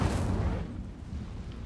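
A fire spell cast in the video game Hogwarts Legacy bursts out as a loud, whooshing blast with a booming low rumble that fades over about a second, with no talk.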